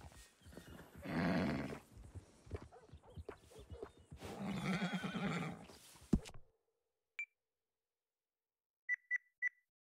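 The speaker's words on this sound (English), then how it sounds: "Good-looking horse there." A horse in the video game Red Dead Redemption 2 gives two drawn-out whinnies, each lasting over a second, followed by a few short electronic beeps in near silence.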